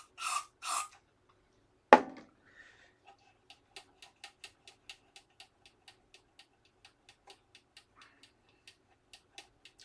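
Cleaner is sprayed inside a guitar amp in two quick, hissing bursts close by, followed by a sharp knock and a long run of faint, regular ticking clicks.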